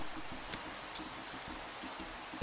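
Rain in the video game Minecraft falls as a steady, close hiss of patter with faint soft ticks mixed in, continuous at low level throughout.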